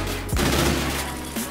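The Hornet gun in Infinite Warfare firing with a rapid-fire mod, a dense, continuous stream of shots with a thick, steady wash of sound and no pauses.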